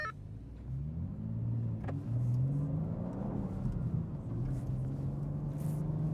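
A 2023 BMW M2 and a 2023 Camaro SS 1LE launch in a drag race, with engines rising in pitch through first gear, briefly dropping at a shift, then climbing again. The sound is a loud, sustained roar heard from close by.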